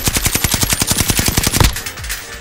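Rapid automatic gunfire from the Call of Duty video game, a loud, close burst of evenly spaced shots that stops abruptly after about a second and a half.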